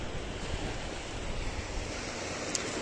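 Sea waves and surf wash steadily against the shore, a continuous broad roar with gentle swells, breezy wind noise on the microphone, and no voices.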